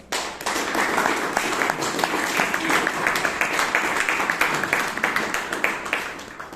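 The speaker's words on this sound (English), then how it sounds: "give a round of applause for her" Audience applause at a Toastmasters club meeting in Bangalore, a steady wash of many hands clapping in a small room that holds evenly for several seconds, close and moderately loud, with no talk over it.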